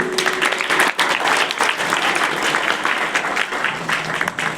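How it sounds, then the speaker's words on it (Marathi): An audience at the lamp-lighting inauguration of a children's values camp breaks into continuous clapping, a close, busy patter that holds steady for a few seconds with slight dips in loudness. "टाळ्या वाजून स्वागत करूया"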